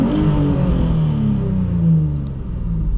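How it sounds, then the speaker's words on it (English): A 2002 Nissan 350Z's V6 engine revs close by, a loud, deep rumbling drone that swells and eases over a few seconds with no voices. "I'll give you a couple of revs so you can hear the engine."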